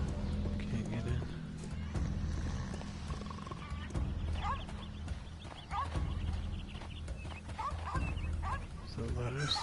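Horse hooves clip-clop and a horse neighs in a Sherlock Holmes video game scene, mixed with ambient game sounds and occasional voices.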